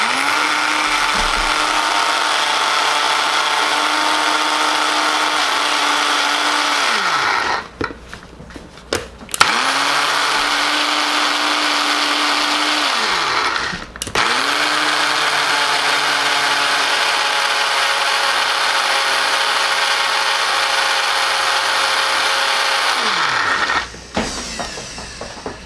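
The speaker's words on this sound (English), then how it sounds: "Now I'm just going to whip it up in my ninja" A Ninja blender whirs loudly and steadily while blending chimichurri herb sauce, stopping briefly three times between long continuous runs of motor roar.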